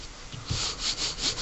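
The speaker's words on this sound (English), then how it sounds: "I'm using a piece of 320 sandpaper, wrapping it around a stick" Short, rhythmic scratchy rubbing strokes of 320-grit sandpaper wrapped around a stick, gently sanding the back of a metal pendant, close and fairly quiet, repeating a few times.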